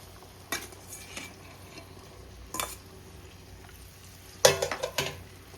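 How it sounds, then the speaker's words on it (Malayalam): Fish pieces being dropped into boiling chili curry in a pot, a few brief clattering bursts and splashes over a quiet simmering background. "അപ്പോൾ നമുക്ക് ഇതിലേക്ക് മീൻ അങ്ങിടാവേ"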